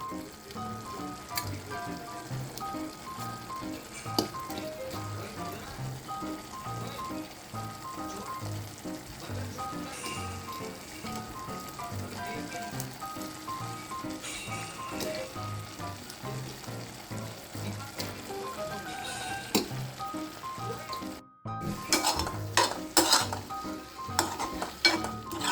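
Boiled potatoes are mashed in a sizzling pan for pav bhaji, a steady frying hiss under rhythmic soft thumps and scrapes of the masher against the pan, with louder clatters near the end.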